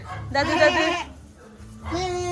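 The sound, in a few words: goats bleating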